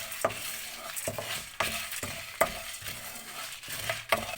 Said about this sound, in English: Dry roast these spices in a medium flame.